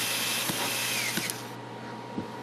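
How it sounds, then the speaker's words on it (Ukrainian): A screwdriver tightens screws on the cover of a Zelmer vacuum cleaner, giving soft ratcheting clicks and faint squeaks at intervals over a steady background hum. "Все, далі накриваємо кришкою і закручуємо 4 гвинти."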